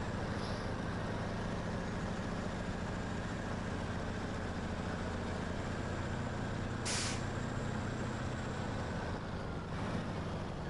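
A heavy truck in a trucking video game drones with a steady, loud engine rumble throughout, broken near the end by one short, sharp hiss of air brakes releasing. No one speaks.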